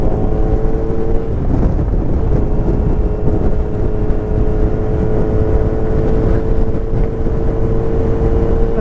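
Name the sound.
2023 Kawasaki Z900 ABS motorcycle riding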